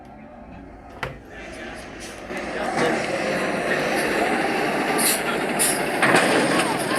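Heavy dump truck engine rumbling steadily nearby, with a sharp air-brake hiss burst early on and further hissing and clatter later, under faint talk.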